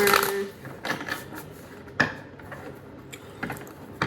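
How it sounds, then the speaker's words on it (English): Disney villain tarot cards are shuffled in a few soft riffling bursts and light papery clicks, quiet and close, spread across a few seconds with pauses between. "I already shuffled these cards. I'm just going to shuffle them a little bit more."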